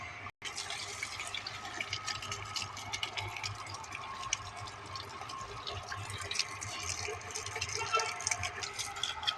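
A 0.5 HP Pedrollo water pump runs steadily, water rushing and splashing as it fills, a continuous broadband wash heard close with no speech.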